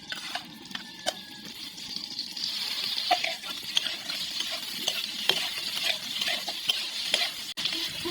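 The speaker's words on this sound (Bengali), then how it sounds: "এই হালকা একটু তেলে ভেজে দেওয়া হবে ফুলকপিটা।" Cauliflower frying in a little mustard oil in a pan for a Bengali egg and cauliflower curry, a steady close sizzle broken by repeated sharp clicks and scrapes of stirring, with no talking.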